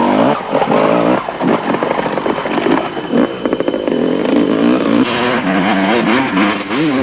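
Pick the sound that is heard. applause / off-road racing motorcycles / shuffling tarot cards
off-road racing motorcycles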